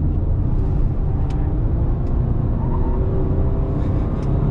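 A Honda HR-V SUV accelerates, heard from inside the cabin as a steady low engine and road drone, loud and continuous, with no clear rise in pitch and no talk.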